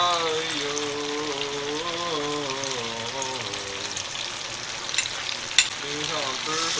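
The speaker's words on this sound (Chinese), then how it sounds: "淋上蛋液" Beaten egg poured over food in a hot pan at home sizzles and crackles continuously, with a voice talking over the frying and a brief clatter near the end.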